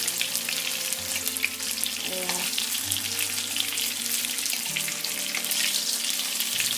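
Eggplant slices frying in oil, a continuous sizzle and crackle throughout with a few faint clinks, close and steady.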